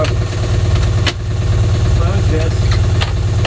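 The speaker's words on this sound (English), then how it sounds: "it seems like the exhaust note is pretty quiet" A boat's engine idles with a quiet exhaust, a steady, loud, low rumble that holds even throughout, with people talking over it.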